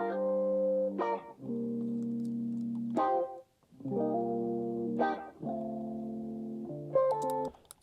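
Darkened electric guitar track with high frequencies rolled off by EQ, playing sustained chords in two-bar phrases with brief pick attacks at each change, mellow and warm, no voices.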